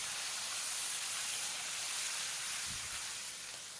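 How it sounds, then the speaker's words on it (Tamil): Curry leaves and asafoetida sautéing in a pan for lemon rice, a steady close sizzling hiss that holds throughout and eases slightly at the end. "அதுக்கப்புறம் 2 கொத்து கருவேப்பிலை சேர்த்து நல்லா வதக்கி விடுங்க."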